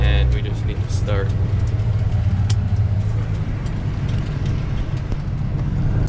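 An 18-speed grain truck rolls up to a grain elevator in Saskatchewan, its steady low engine rumble loud and close throughout, with a brief higher whine near the start and light background noise over the drone.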